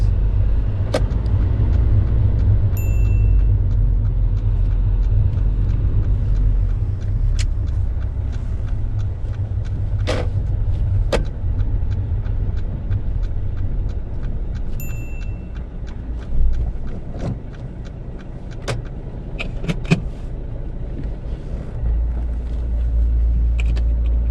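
A car on a UK driving test rolls along with a steady low engine and road rumble throughout, punctuated by occasional sharp clicks and ticks from inside the cabin.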